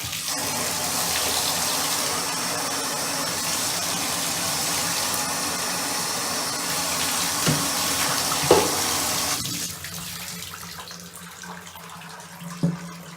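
Tap water runs steadily to rinse a bathtub surface while a non-slip grip is being fitted, a constant broad hiss with a few small knocks, easing off and thinning near the end.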